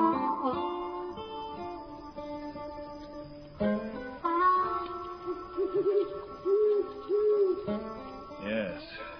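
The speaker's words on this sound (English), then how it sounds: "A clamorous owl that nightly hoots and wonders at our quaint spirits." An owl hoots at night as a radio drama sound effect, several soft, evenly spaced hoots sitting over a sustained musical background.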